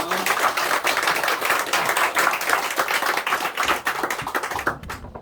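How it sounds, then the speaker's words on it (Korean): A church congregation claps together during a Sunday morning worship service, a dense, steady patter of many hands that carries on for several seconds before thinning out at the end. "우리 하나님께 영광의 박수를 올려드리겠습니다."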